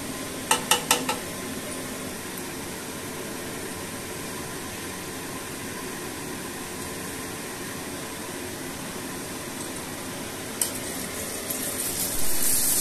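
Cumin seeds sizzling in oil in a pan while being stirred, a soft, steady frying hiss with a few light metallic clinks of the utensil near the start and end.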